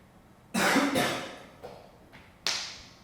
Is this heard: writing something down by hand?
no